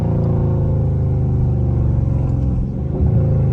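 Deep, throaty engine rumble from a catless Dodge Scat Pack exhaust, not in sport mode, with low burbling pulses, close and loud, steady throughout.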